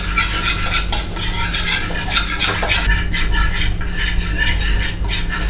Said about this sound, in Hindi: इसमें हम 1 चम्मच मैदा डालेंगे और विस्कर की हेल्प से आप इसको विस्क करेंगे, भूनेंगे।